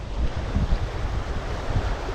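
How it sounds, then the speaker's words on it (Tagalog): Strong wind buffets the microphone in a continuous low rumble at a Kuwait seaside fishing spot, with surf washing in the background. "Sobrang lakas ang hangin."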